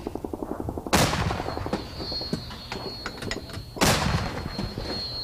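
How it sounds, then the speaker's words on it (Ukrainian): An infantry fighting vehicle (BMP) cannon fires two sharp, loud blasts a few seconds apart, with mechanical clatter and clicking between them and a steady hum in the background. "Три постріли. Вогонь!"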